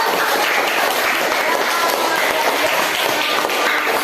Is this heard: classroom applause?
yes